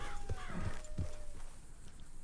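Horse walking in the video game Red Dead Redemption 2, a few soft, muffled hoof thuds in an uneven clip-clop over low background ambience.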